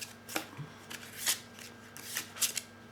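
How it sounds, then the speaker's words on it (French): Tarot cards being shuffled and drawn by hand, a series of soft crisp riffling and snapping bursts at uneven intervals, close and fairly quiet, with no talking. "Et ensuite, je vais tirer une carte de"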